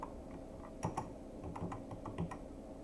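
Typing on a computer keyboard, a brisk run of close key clicks and taps in irregular rhythm with a few louder strikes, heard alone with no voices.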